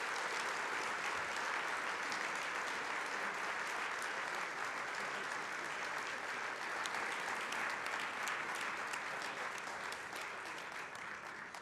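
Sustained applause from a large audience at an awards ceremony honoring military generals, dense clapping filling the room steadily throughout and tapering only slightly at the very end.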